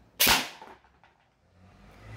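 A single sharp airsoft shot from a Neptune 9 Marsoc Rossi replica firing 0.20 g BBs, a loud close crack that quickly fades, followed by quiet.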